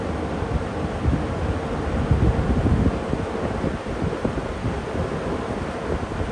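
A Lakewood box fan from a Kmart Blue Light Special lineup blows air with a loud, steady broadband rush that swells slightly midway and carries on with no talk over it.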